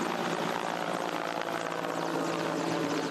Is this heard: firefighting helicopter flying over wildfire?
yes